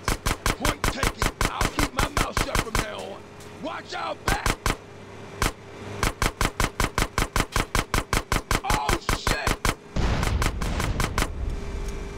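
Bursts of rapid gunfire in the video game GTA San Andreas, loud repeated shots in quick rhythmic volleys with short pauses, over engine drone and occasional game voices.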